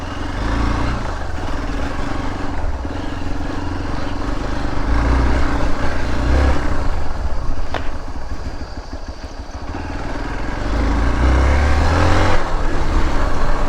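A motorcycle with slightly underinflated tyres rides along a rural jungle road in the rainy season, its engine droning steadily and loud up close, swelling as it accelerates midway and again near the end.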